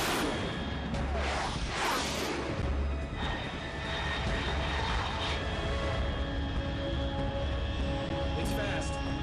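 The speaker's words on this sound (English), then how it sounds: "Unidentified aircraft detected." Aircraft roaring high overhead in Metal Gear Solid 3, a steady, dense engine drone with a low rumble running throughout and a few whooshes.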